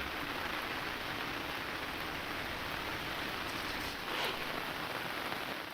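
Heavy monsoon rain pours steadily in Sindhudurg, a dense, unbroken hiss of water striking surfaces close by, loud and constant throughout with no voices.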